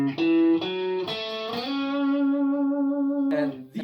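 Electric guitar riff from a song, a few picked notes then a slide up to the sixth position on G, ringing and sustained, played alone and close.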